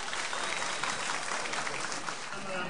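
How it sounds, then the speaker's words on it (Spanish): A crowd at a community food-distribution event gives loud, dense, sustained applause that fills the space evenly from start to finish. "Démosle un fuerte aplauso."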